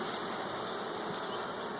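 Honey bees buzzing around an open package hive being given more space, a steady, dense hum with no talk over it.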